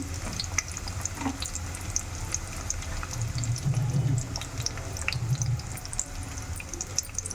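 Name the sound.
onion frying in a pan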